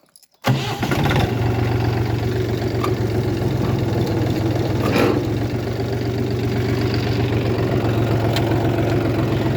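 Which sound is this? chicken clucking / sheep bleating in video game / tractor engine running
tractor engine running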